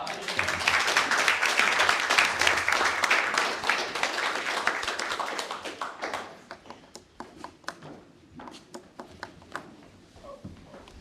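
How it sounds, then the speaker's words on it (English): A room full of people at a city commission meeting breaks into sustained applause. The clapping fades after about six seconds, leaving a few scattered, distinct claps near the end. "Give her another round of applause."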